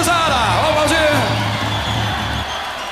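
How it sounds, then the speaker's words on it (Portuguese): A crowd at a live music show cheering and whooping loudly, with shouts and yells over a constant dense roar, heard close and steady throughout. "Cadê o aplauso aí, gurizada? Vamos aplaudir."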